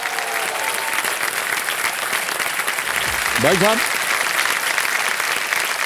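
Audience applause in a television quiz-show studio, a steady broadband wash of clapping running throughout, with a brief spoken voice over it partway through.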